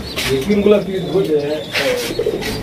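Pigeons coo steadily at a pigeon farm, several low, throaty calls overlapping close by with an occasional faint chirp, while a person talks over them.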